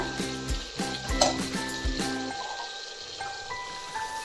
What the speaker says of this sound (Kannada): ಟೊಮೊಟೊ ಈಗ ಫ್ರೈ ಆಗಿದೆ ಇದಕ್ಕೆ ನಾವೀಗ ತಲೆ ಮಟನ್ನ ಹಾಕೊಳ್ಳೋಣ